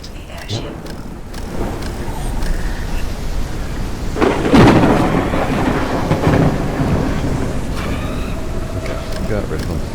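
Thunderstorm in the video game Forever Skies while flying an airship: steady rain and wind with a loud rolling thunder crack midway that rumbles on for several seconds.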